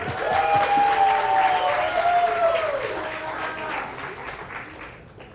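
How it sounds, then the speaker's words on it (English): A crowd at a student startup demo day applauds warmly, the clapping loud at first and then gradually fading away, with a few cheers mixed in. "Let's give a round of applause for them."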